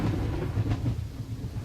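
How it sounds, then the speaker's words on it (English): Thunder from a summertime prairie thunderstorm rumbles low and continuous in one brief, heavy roll at moderate distance, with no voices. "The most Canadian sound that I can think of is a prairie thunderstorm in the summertime."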